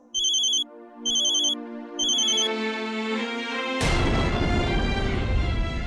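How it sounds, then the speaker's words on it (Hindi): Mobile phone ringtone in a Hindi TV drama scene, three short repeating electronic bursts followed by a sustained tone and then a louder, noisier swell, with no talking. "फोन उठाओ।"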